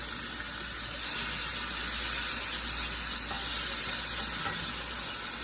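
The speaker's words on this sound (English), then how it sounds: "I'll add a little bit oil, just a little bit, my green onion" Green onion frying in a little oil in a pan, giving a steady close sizzle that swells slightly after the first second and holds on, with no voices.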